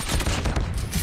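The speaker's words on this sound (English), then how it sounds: "let me get the spawn trap with the nail gun" Rapid nail gun fire in a zombies video game, a dense continuous burst of loud close shots running the whole moment without pause or talk.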